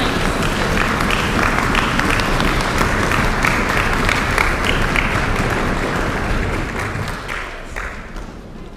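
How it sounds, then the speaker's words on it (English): Loud, sustained audience applause at a middle school strings concert, a dense wash of clapping with some foot tapping that holds steady for several seconds and then tapers slightly, with no speech over it. "Let's also just give a big round of applause"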